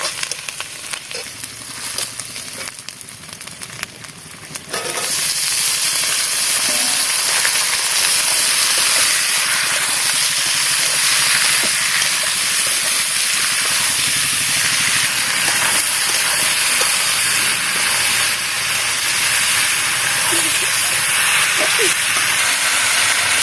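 A pot of fish curry with okra and potato sizzles on the stove. After a few quieter seconds with light stirring, a loud, steady hiss of frying and steam surges in and continues unbroken, close and dominant.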